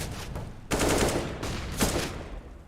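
Pistol gunfire in Counter-Strike: three sharp, loud shots with short ringing tails, spaced unevenly over a couple of seconds, with no talk.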